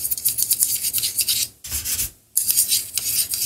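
Brisk scrubbing and rasping on a Briggs carburetor to clear gummed, gelled fuel residue, a close rhythmic rubbing in bursts with two short pauses, no talking.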